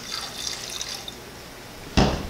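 A small amount of water is poured from a stir stick into a paint bucket while thinning paint for an HVLP spray gun, heard as a soft trickle followed by a brief, louder splash near the end.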